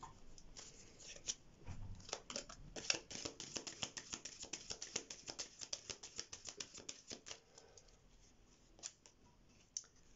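Tarot cards being shuffled by hand in a rapid run of crisp riffling snaps and flicks, close and clear, tapering into a few scattered taps with no talking.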